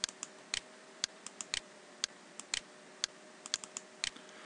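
A computer mouse clicks sharply and irregularly during 3D CAD spline drawing, single and paired clicks scattered close up over a quiet background hum, without speech.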